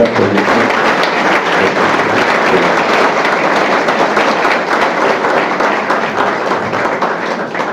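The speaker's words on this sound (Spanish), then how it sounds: "para que quien pido un gran aplauso" A large audience gives loud, sustained applause for the poet Rafael Cadena after his Cervantes Prize. The clapping is dense and continuous, holds its level across the whole stretch and has no voices over it.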